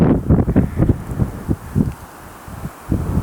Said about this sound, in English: That wind changed when these clouds came over. The wind switched and started blowing right at them.